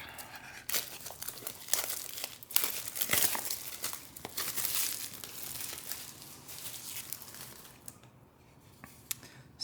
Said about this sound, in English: Just going to get in through the plastic.